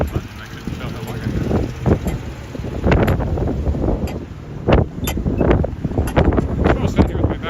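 Wind gusts buffet the microphone on a snowy street walk in Regina, in repeated rough bursts that swell and drop irregularly, loud and close, without clear speech over them.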